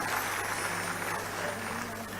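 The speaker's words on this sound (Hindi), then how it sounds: "एक बार जोरदार तालियां केशव भाई के लिए बजा दीजिएगा" An audience at a stage event breaks into sustained applause, a dense wash of clapping that stays loud and even throughout.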